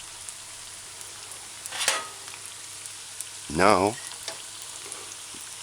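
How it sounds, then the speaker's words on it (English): Vegetable fritters frying in a pan, a steady hiss of oil running low through the clip, with two brief louder bursts of kitchen noise and a spoken word over the top. "Vegetable fritters frying."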